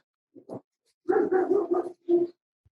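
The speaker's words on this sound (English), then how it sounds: "Oh, a dog has an input, apparently." A dog barks a few times indoors during a tabletop roleplaying session: two short yips, then a longer rapid burst of barks and a final bark, fairly close and loud, with no talk over it.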